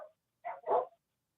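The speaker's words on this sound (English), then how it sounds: "Your dog's spazzing right now." A dog at a park gives two short, sharp barks in quick succession, close and alone, after a brief faint sound at the start.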